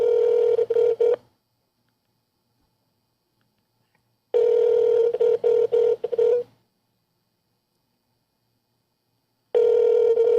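Telephone ringback tone on an outgoing call, a steady electronic ring repeating in bursts of about two seconds separated by silent gaps while waiting for pickup.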